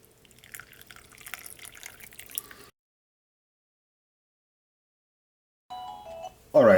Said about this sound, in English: I'm actually just gonna add more boiling hot water. There's the kettle.